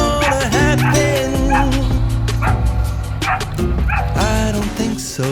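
A small terrier barks and yips loudly and close up in quick repeated bursts, mixed with whining, with a voice briefly heard alongside.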